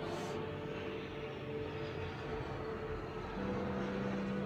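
A steady, loud engine roar fills the air like an aircraft passing overhead, with a low droning hum joining near the end.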